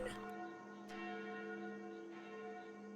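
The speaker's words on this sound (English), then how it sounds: "They sound like the church's noontime bells." Church bells ringing at noon in the horror dating game Sucker for Love: First Date, a sustained, steady tolling with layered ringing tones and a couple of fresh strikes, playing alone at moderate loudness.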